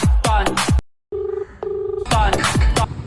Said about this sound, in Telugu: ఒకసారి ఫోన్ చేసి చూద్దాం.